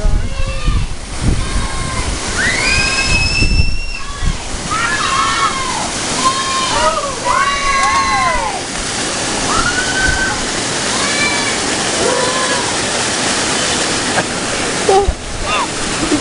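A Costa Rica waterfall roars loud and steady at close range, with occasional splashes and people's voices and shouts over the rushing water.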